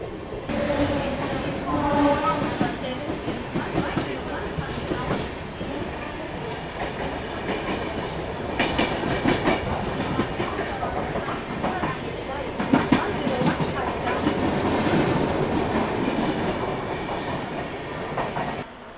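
Passenger express train running near Thane, Mumbai, as a local train overtakes alongside: continuous rumbling and rhythmic clickety-clack of wheels on track, loud and close, with passing rattles and brief squeals; faint voices in the background.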